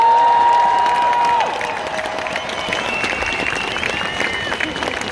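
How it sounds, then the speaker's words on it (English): A climate strike crowd in Bristol claps in a dense, steady round of applause, loud at first and then settling a little quieter as it continues, with tonal sounds lingering over it. "can we have a round of applause for everyone that organised this?"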